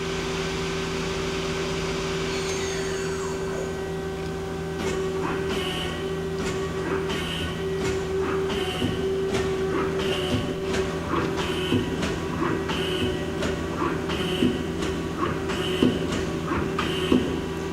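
A Mazak QTN-200-II CNC lathe spindle spins up at speed, a quiet steady whine with a constant tone, joined by regular rhythmic clicks and ticks from the machine, nearby and without voices.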